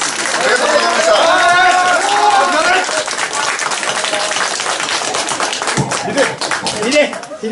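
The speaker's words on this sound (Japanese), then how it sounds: "皆様に惜しみない拍手をよろしくお願いします" Loud crowd clapping at a Kawachinagano danjiri festival greeting and bouquet presentation fills the clip, with voices mixed in over the applause before it thins toward the end.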